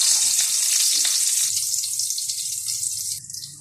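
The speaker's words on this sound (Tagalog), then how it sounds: "nakamarinig na yung ating beef tapa" Beef tapa frying in a pan, a bright, steady sizzle that softens slightly midway and then flares up again near the end, heard alone without talk.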